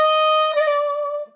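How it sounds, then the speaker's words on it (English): A jazz clarinet holds a single clear, sustained note, then adds a quick mordent ornament, a rapid flick to a neighbouring note and back, before settling on the tone again and cutting off. The instrument plays alone and close. "I'm going to add something that the classical musicians call a mordent,"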